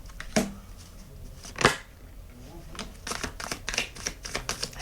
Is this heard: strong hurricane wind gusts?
no